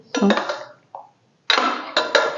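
Cooked dal being stirred in a metal pot with a spoon, heard as a few close, fairly loud scraping and clinking strokes separated by brief pauses, with no talk.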